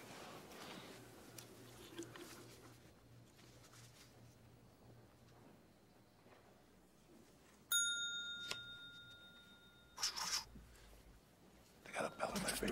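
A single bright bell ring cuts through quiet room tone at a hotel concierge desk, chiming once with a lingering metallic tail, followed by a few faint rustles.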